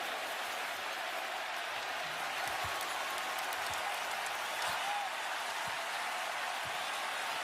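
A basketball arena crowd at a Knicks vs Cavs playoff game (Game 2), on its feet during overtime, cheering and applauding in a steady, dense roar with scattered claps, likely under faint commentary.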